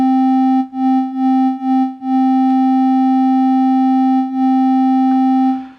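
A Studiologic Sledge synthesizer plays a hollow square-wave tone from a 50% pulse wave, with a soft fade-in attack, held as one loud steady buzzy note, briefly retriggered a few times early on, then sustained alone.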